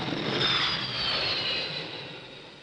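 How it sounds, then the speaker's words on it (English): A Sea Vixen jet sets down on a carrier's 720-foot flight deck at about 130 knots, its engines giving a steady, broad roar that fades slightly toward the end, with no voices. "A Sea Vixen landing at 130 knots, 720 feet of flight deck, and there's room to park"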